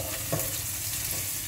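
Ginger and garlic frying in a pan for a turnip sabzi, a steady close sizzle with soft stirring sounds and no talk.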